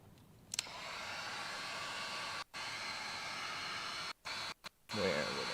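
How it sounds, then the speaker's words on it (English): A heat gun blows with a steady, loud airy whoosh while window tint is applied on a Jeep Cherokee, cutting out briefly a few times before resuming. "Don't get the heat gun too close to all the paneling"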